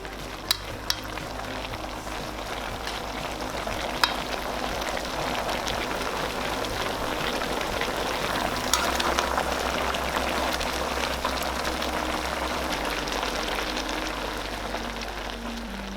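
Soaked glass noodles stirred into vegetables and broth in a pan for braised pork backbone stew, a continuous loud sizzling bubble with occasional utensil clicks, close and unbroken.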